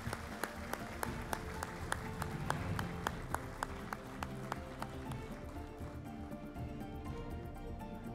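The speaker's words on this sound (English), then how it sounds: "A big round of applause, ladies and gentlemen." An audience at a high-level visit to the Central Bank of Kenya applauds with steady, sustained clapping, distinct individual claps standing out from a busy room, continuing for the full stretch.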